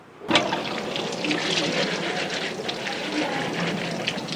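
Tap water runs steadily over about 50 grams of curry leaves being washed, a sudden start followed by a continuous close splashing rush.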